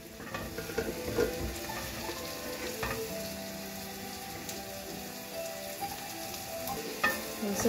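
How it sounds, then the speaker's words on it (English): Asparagus sautés in a pan with a soft continuous sizzle, punctuated by occasional stirring clatters, fairly quiet throughout. "And saute our asparagus here."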